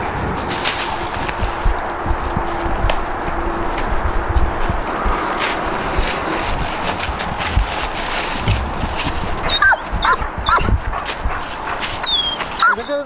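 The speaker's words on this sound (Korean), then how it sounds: "인명 구조견은 구조 대상을 발견하면 짖기 반응으로 상황을 전달하게 돼 있다" A search and rescue dog barks during a rubble search training exercise, several sharp barks outdoors over steady background noise and movement, with people talking nearby.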